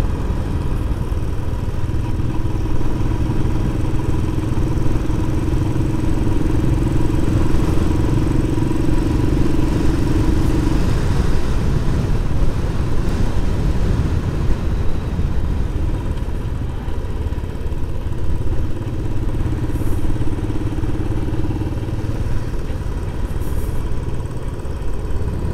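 Motorbikes passing along a road on the slopes of Mount Teide in Tenerife, a continuous engine drone with a couple of longer tonal passes rising and fading, heard over steady wind and road noise.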